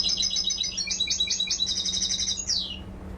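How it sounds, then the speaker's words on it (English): Bird songs played back from a laptop speaker aboard a camel transport boat, a rapid series of bright high chirps and trills running for about two and a half seconds, then a single downward-sweeping whistle, over a steady low engine hum. "this engineer was listening to bird songs on a laptop"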